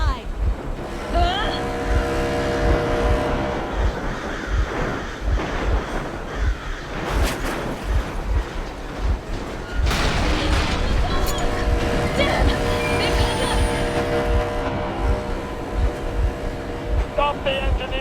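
Vehicle engine running in the video game Metro Exodus, a loud chugging motor drone with rhythmic low pulses and washing water-like noise, continuous throughout with brief bursts of louder activity.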